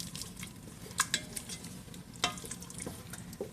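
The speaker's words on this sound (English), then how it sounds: "And the onions are sauteing, and you can smell that butter and bacon grease" Onions saute in butter and bacon grease, a soft low sizzle beneath occasional sharp clinks and scrapes of a utensil against the pan, heard up close without speech.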